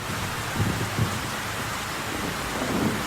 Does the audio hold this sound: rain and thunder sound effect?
yes